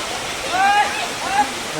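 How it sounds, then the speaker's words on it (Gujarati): Rushing mountain stream water pours steadily nearby in the Girnar forest near Junagadh, a full broadband roar, with a voice briefly sounding over it. "બહુ મોટી માત્રામાં પાણી જાય છે ભાઈ"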